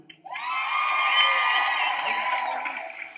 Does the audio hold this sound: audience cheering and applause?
yes